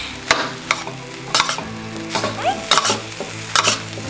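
Shrimp fried rice sizzles hard in a hot pan as fish sauce goes in, with repeated scraping stir strokes and clanks of a spatula at an uneven rhythm over a constant close sizzle, no voices.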